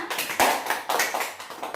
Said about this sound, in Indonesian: silakan tepuk tangan untuk temannya